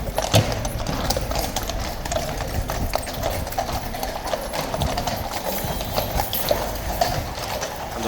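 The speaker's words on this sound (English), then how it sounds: "The noise, guys, the clip clop" Horses of the King's Guard in London clip-clop over the ground on a bright morning, a close, continuous patter of many hooves in uneven rhythm, with faint background voices.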